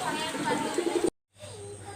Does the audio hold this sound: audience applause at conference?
no